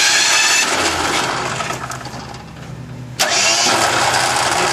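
A demolition derby car's starter Bendix engages as the engine cranks, a loud grinding whir that slows and fades, then a sharp clunk and a burst of renewed cranking noise.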